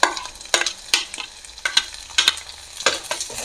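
Chopped onions and green chillies, with garlic and a pinch of salt, sauté in a pan for a long bean curry. Quiet sizzling is broken by repeated sharp scrapes and clatters of a spoon stirring, close and with no talk.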